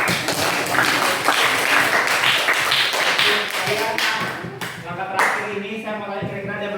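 Students in a classroom clap for their teacher, a dense, steady patter of many hands filling several seconds, with voices mixed in and a brief dip before the clapping swells again.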